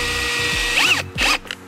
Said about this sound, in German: Also, wir schrauben das jetzt hier fest und dafür halten wir von der anderen Seite einen Holzklotz gegen.